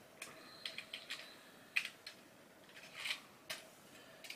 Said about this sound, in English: To send characters, just like randomly typing letters.